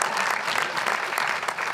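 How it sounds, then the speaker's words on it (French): A church congregation claps steadily and fairly loudly, a dense sustained applause with no break. "on peut les applaudir"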